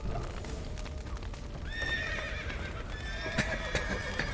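Horses in The Witcher 3 whinny with rising, shrill neighs over a steady clatter of hooves, the calls coming in two bursts partway through and sitting close and clear above a rumbling game background.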